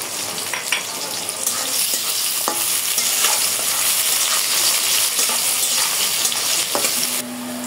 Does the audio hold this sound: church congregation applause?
no